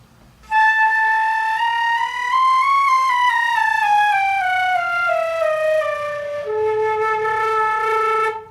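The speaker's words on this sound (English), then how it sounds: "Then there's stuff like flutter tonguing," Flute flutter tonguing, a rolling trilled tone that sustains with a rapid buzzy flutter, slides up then gradually down in pitch, and ends on a lower held note, played loud and close with no talking.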